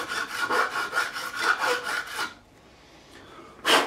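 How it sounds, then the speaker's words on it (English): A fret on an Epiphone Les Paul Special II guitar is filed smooth, with a steady run of about eight rhythmic rasping strokes over two seconds, then a pause and one last short rasp. "I'm just going to come across and just smooth off that fret all the way, removing any burrs, nice and gentle"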